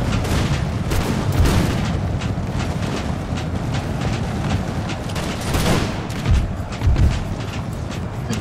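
Massed musket and cannon fire from an Empire: Total War battle, played with the Darthmod mod, rolls on as a continuous rumbling roar of overlapping volleys, with a few heavier booms standing out near the end.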